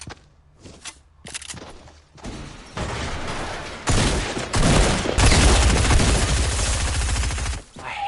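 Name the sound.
shotgun gunfire in Fortnite video game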